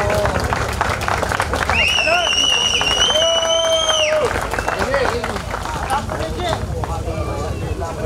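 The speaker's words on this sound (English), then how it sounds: "Once again, some applause please for these boys, for Nikolaos, for Ege, and for Pavel." Audience applause for Balkan Road Cycling Championships winners outdoors, with continuous loud clapping and crowd noise throughout and a voice talking over it.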